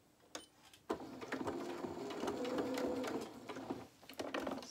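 A domestic sewing machine stitches a small seam in fabric for doll-sized boxer shorts. The stitching is close, quiet and steady, with a soft start and stop and a few clicks of handling around it.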